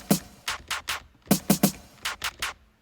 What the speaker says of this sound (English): The next sound is the snare, which is also from Vengeance.